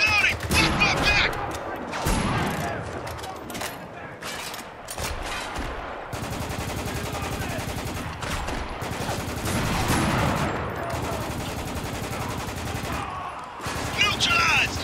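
Gunfire during a sniper fight on rooftops in Spec Ops: The Line, with dense, chaotic volleys of shots and impacts throughout, mixed with shouting voices and battle noise.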